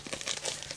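Pink plastic mailer envelope being opened up close, a short, soft burst of crinkling and tearing plastic.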